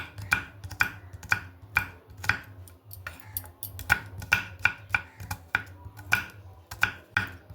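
A knife chopping onions finely on a board, a quick run of sharp, evenly spaced taps, close and crisp, with no talk.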